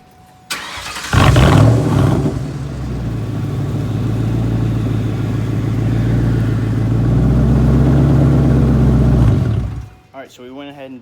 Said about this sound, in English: we're going to go ahead and start the car, turn the wheel, do the other side